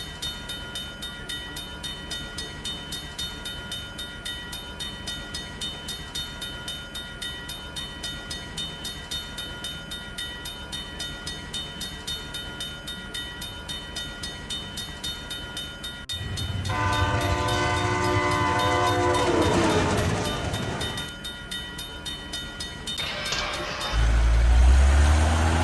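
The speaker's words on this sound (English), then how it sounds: "A train is approaching the crossing." A cartoon train rolls steadily toward a railroad crossing, its tonal hum running throughout, then a loud horn blast swells in the middle before the rumble continues and a heavy low thump closes it out.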